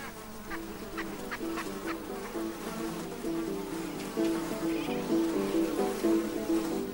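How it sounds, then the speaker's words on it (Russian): A dense swarm of flies over marshland, where a small teal feeds, gives a steady buzzing drone that swells slightly over time, with faint bird calls scattered through it. "Мух, одних только мух, тысячи мух."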